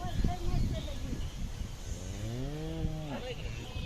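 A dairy cow on a farm moos once in a long drawn-out call, close and fairly loud, over rustling background noise.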